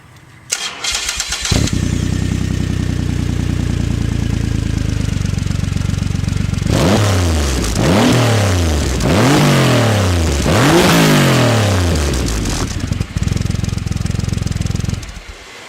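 An engine fitted with a Ram Air intake cranks and catches, idles loudly, then revs hard in four or five rising and falling sweeps before settling back to a steady idle.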